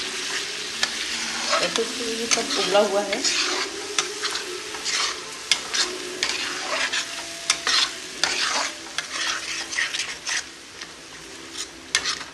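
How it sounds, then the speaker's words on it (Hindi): Onion paste sizzling in a pan and scraped with a spoon, steady frying hiss broken by sharp stirring clatters; a voice speaks briefly. "अब हमने इसमें डाल दिया है प्याज का पेस्ट, जिसको हमें बहुत अच्छी तरह भूनना है"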